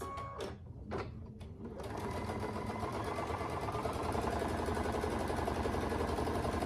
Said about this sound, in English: sew a 1/4 inch seam allowance